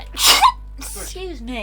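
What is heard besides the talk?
sneeze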